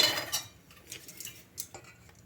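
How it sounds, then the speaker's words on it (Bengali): Sugar syrup is slowly stirred into a warm semolina and nut batter, a soft wet swish followed by a few light clinks and taps of a spoon against the bowl. "এই ব্যাটারটার মধ্যে চিনি শিরাটা মিশিয়ে নেব। ঠিক এইভাবে আস্তে আস্তে মিশিয়ে নিতে হবে।"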